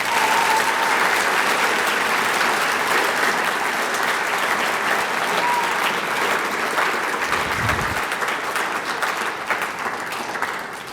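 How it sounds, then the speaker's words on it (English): A school audience at a Veterans Day program applauds the band and choir, sustained full applause that stays loud for most of eleven seconds before easing slightly toward the end. "Let's give them another round of applause."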